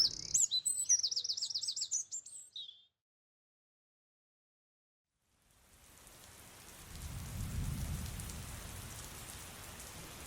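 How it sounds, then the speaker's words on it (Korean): Rain pours down on an empty school playground, a steady hiss of drops swelling in loudness after a stretch of silence, with birds chirping briefly at the start. "오전부터 조금씩 내리기 시작한 비는 어느덧 시원한 소리를 내며 운동장을 두들기고 있었다."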